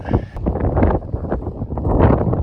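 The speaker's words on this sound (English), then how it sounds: "it's stupid windy" Strong outdoor wind buffets the microphone in loud, uneven gusts with broadband rumble across the whole span, heard alone without talk.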